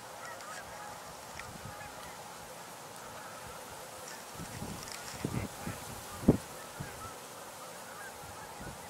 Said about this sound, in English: Hear a lot of Canada geese right now.